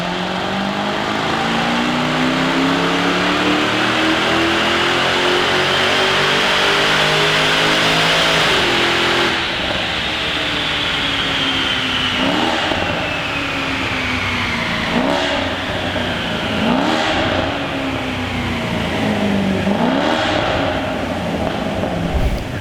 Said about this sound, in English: so that's the dyno run finished